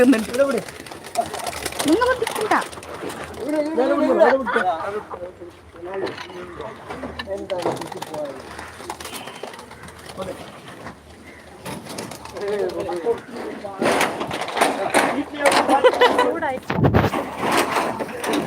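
Soft, repeated pigeon coos murmur through the clip alongside people talking nearby, with some rustling and a louder burst toward the end.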